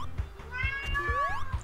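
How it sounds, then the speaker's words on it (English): A cat meows repeatedly at close range, with rising and falling drawn-out calls over a low background hum and soft periodic thumps. "Wow, that is a cat."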